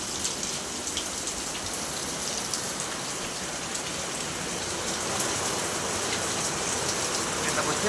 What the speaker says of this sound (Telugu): ఫుల్ వర్షం స్టార్ట్ అయిపోయింది గైస్